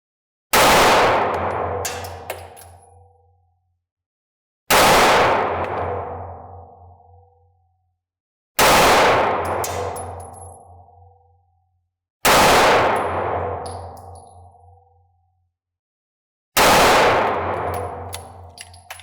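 Five loud 9mm pistol shots, fired at a target 50 feet away, ring out alone at a slow, even pace about four seconds apart, each with a sharp crack and a decaying echo.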